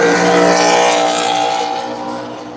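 Stock cars roar past on the track during the Daytona 300, a loud, dense engine drone that swells and then fades slightly as the pack moves away.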